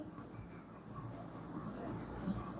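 Chalk or marker strokes on a classroom board come in rapid scratchy bursts during a Hindi grammar lesson, close and steady, with a break midway and low murmuring underneath.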